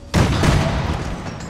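A single sharp gunshot in the Space Hulk Tactics video game, a loud boom with a short decaying tail, standing alone without talk.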